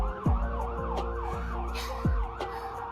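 An ambulance siren wails in repeated rising and falling sweeps. It is fairly distant and steady, with a couple of dull thumps underneath and no talking.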